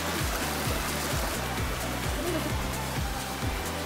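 Clear water flows out of a cave in a jungle setting, giving a steady, close rushing and gurgling wash with no talk over it.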